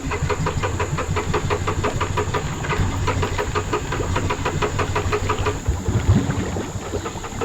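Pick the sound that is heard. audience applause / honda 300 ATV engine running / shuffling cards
honda 300 ATV engine running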